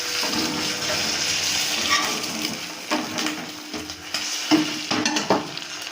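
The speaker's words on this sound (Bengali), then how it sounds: "ভাজা হয়ে গেছে, এবার আমি ডিমটাকে গুটিয়ে নেব" A large egg omelette frying in a pan, with a steady hiss at first and then scraping and clattering stirs over a softer sizzle, close up and with no voices.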